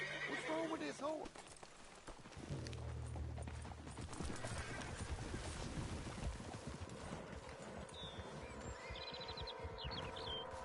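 In Red Dead Redemption 2, a horse whinnies loudly near the start, then hooves clip-clop steadily as a person talks, with faint bird chirps high in the background.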